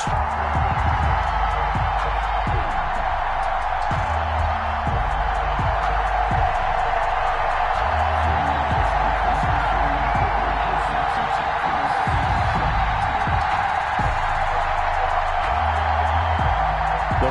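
Stadium crowd in an EA Sports football video game before a Tampa Bay Buccaneers versus Denver Broncos matchup, a dense, loud, continuous roar of cheering that never lets up.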